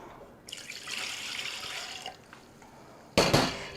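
Milk pours into a bread machine pan for about one and a half seconds, a close liquid splash and gurgle. A short, louder burst of splashing follows near the end, with no talk.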